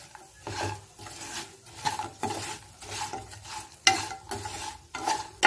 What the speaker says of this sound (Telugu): దీన్ని దీంట్లో వేసేసేసుకొని తిప్పేసుకుందాము.